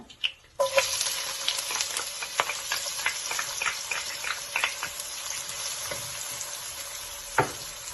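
Steady sizzling of finely chopped onion dropped into hot oil, with brief stirring clatters, close and fairly loud, no voices.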